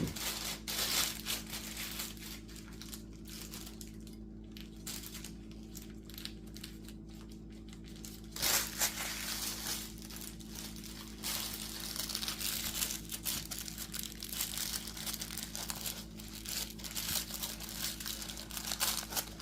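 A plastic bag is handled and secured during resin mold work, giving soft, continuous crinkling and rustling close by at low volume, with a brief louder crunch midway.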